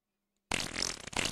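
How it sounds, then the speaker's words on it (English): A fart sound effect plays after a moment of silence, one loud, sputtering, blatty burst lasting close to a second, heard on its own. "I'm laughing at a fart sound."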